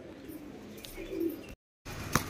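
A pet Madrasi pigeon in Kolkata gives a brief, low, throaty coo, close by. The sound cuts out for a moment, then a short sharp noise follows.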